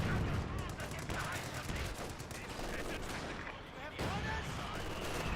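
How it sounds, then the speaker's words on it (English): Paratroopers fire their guns in the World War II strategy game Company of Heroes 2, with dense, continuous rapid bursts of gunfire and booming impacts that stay loud and close for several seconds. "Paratroopers still firing away."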